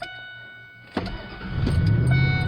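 A 2000 Ford F-150 with the 4.6 V8 cranks briefly and catches, settling into a steady, close idle after the starter's click and whir.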